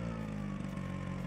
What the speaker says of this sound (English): Ooh, tuk-tuk! Tuk-tuk coming across the bridge.